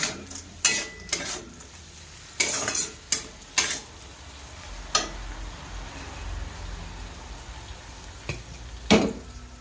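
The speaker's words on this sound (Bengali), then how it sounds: "এটাকে আমি আরেকটু লাল লাল করে ভেজে নেব।" Vegetable dal browning in a pan, with sharp spatula scrapes and clatters against the pot over a faint, low sizzle.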